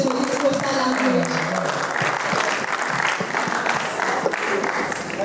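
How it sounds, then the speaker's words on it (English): Audience applause at a university closing ceremony, a full, sustained round of clapping from a large crowd that stays steady throughout, with some voices briefly audible at the start. "can we put a round of applause for this GUOSA language?"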